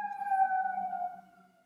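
An emergency vehicle siren sounds nearby as a single sustained wailing tone that swells, then fades away over about a second, fairly faint against a quiet background.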